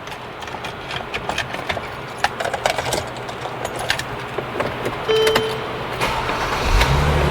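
A Mercedes E350 engine idling in a steady low hum with scattered ticks and clicks, a short tone partway through and a deeper rumble swelling near the end, no talk.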